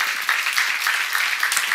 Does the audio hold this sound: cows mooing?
no